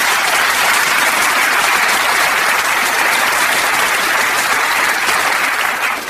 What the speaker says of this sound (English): But please, another round of applause.